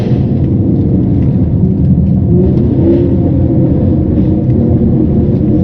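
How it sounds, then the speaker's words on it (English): A Range Rover L322 with a 5.0-litre supercharged V8 drives on a dirt road, its engine droning loud and continuous with a deep rumble and a slight rise in revs, and no voices over it. "It really is one of the best V8s ever made. This AJ133 5-liter supercharged V8,"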